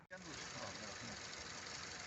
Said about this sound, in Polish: włączamy silnik i 15 minut musi tak sobie pochodzić